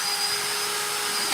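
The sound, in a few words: power drill tightening a screw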